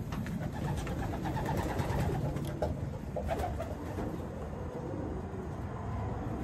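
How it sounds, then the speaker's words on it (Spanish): Racing pigeons from a Florida pigeon derby cooing softly and repeatedly, close by over a low, steady background rumble, with no voices. "Y son excelentes palomas."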